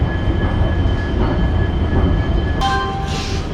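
Indian Railways train at a station platform, its steady low rumble filling the scene with faint tonal hums, and a brighter hiss or squeal rising near the end; no one speaks.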